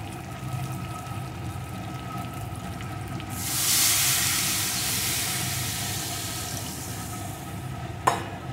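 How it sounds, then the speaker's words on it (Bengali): Warm water poured into sizzling curry masala in a pan for an egg and potato curry, a sudden loud hissing surge of steam erupting midway over the background frying, then settling, with a brief clank near the end. "এখন এর ভিতরে আমি দিয়ে দেবো পরিমাণ মতো জল।"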